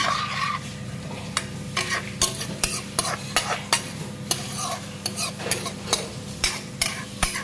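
Mustard paste and water go into a hot frying pan and are stirred. There is soft sizzling under repeated scraping and clinking of a utensil against the pan, close and uneven, with no speech.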